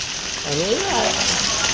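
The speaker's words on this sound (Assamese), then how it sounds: "এতিয়া বৰষুণ এৰাই নাই, চাৰা দিনটোৱে বৰষুণ" Steady hiss of all-day heavy rain in Nalbari town, amid street flooding, fills the background while a voice speaks briefly in the middle.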